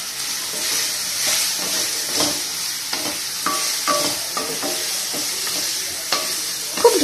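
Raw banana pieces sizzle steadily in a hot pan while a utensil stirs and scrapes against the metal, with a broad frying hiss under repeated clanks.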